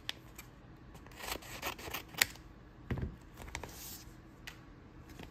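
Scissors cutting open a card mail package, a series of close snips and rustles of packaging material at an irregular pace, fairly quiet; no speech.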